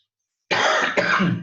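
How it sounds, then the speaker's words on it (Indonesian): After a moment of silence, a single loud, close cough bursts out, followed by a second rough hack. "Mohon maaf teacher agak batuk ya."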